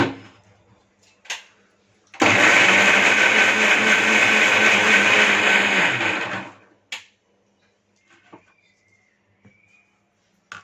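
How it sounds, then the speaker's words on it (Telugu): A mixer grinder whirs loudly for about four seconds, grinding curry ingredients for a meal-maker curry. Quiet clicks and handling knocks come before and after. "ఇప్పుడు మనం దీన్ని అయితే మంచిగా మిక్సీ పట్టుకుందామండి."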